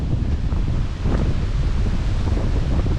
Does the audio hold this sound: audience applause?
no